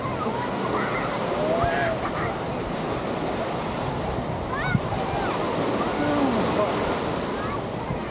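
Ocean waves break on Waikiki Beach in a continuous, rushing wash of surf with some wind noise, steady and close throughout.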